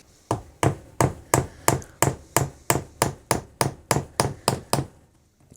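Steady hammering on wood during a custom Telecaster guitar build, about fourteen sharp evenly spaced blows, loud and close, stopping briefly near the end.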